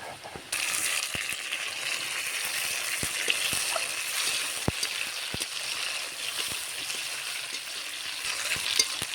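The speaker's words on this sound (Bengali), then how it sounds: "এখন তো মাছের ঝাল করব দিয়ে দিচ্ছি সর্ষের তেল" Onion frying in hot mustard oil in a pan for a fish curry, giving a steady, loud broadband sizzle throughout with occasional sharp crackles and pops.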